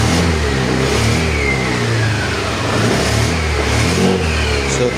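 A Honda Click 125 scooter engine warms up with repeated throttle blips, loud and near, the revs swelling and easing back over a continuous running drone, with no voices.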